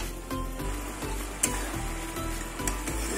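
Masala spice paste being cooked down in hot oil for a katla fish and taro curry, a steady moist sizzle with periodic scraping stir strokes, close and continuous with no talking.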